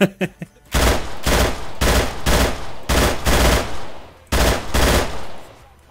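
Automatic 5.56 rifle fire in the video game Arma III: several long, loud bursts at a very high rate of fire, separated by short gaps, with a few single shots at the start.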